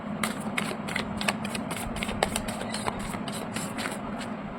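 Tarot cards are shuffled during a reading, a regular series of soft, close riffling flicks repeating about every quarter second over a low background hum, with no voices.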